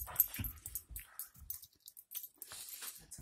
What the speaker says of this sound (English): Our 11-year-old puppy.